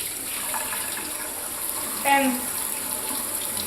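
Tap water runs steadily while wild tea leaves are rinsed under it, a constant hiss with a brief splash midway. A voice says a word.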